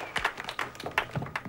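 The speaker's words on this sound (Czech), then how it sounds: "Obrovský potlesk pro Stanleyho Wilsona!" Scattered applause for a performer on stage, a thin patter of separate claps at uneven intervals, fairly quiet and without any cheering.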